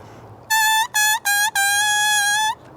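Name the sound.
oboe double reed blown alone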